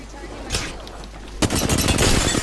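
Bursts of rapid gunfire from an Apex Legends match on PS4 aimed at an enemy's shield: a short early volley, then a dense, sustained string of close shots, with faint talk in the background.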